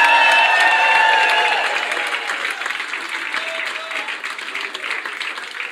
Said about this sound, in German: dann will ich, dass alle klatschen und alle eskalieren